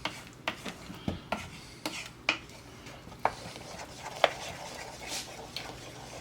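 Saffron mixture stirred in a bowl for an Indian sweet canapé, with a spoon tapping and scraping the bowl in quick irregular clinks, close and fairly quiet.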